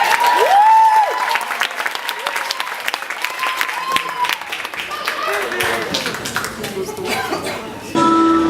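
Clapping from an audience fills the room, with voices and scattered cheers mixed in throughout.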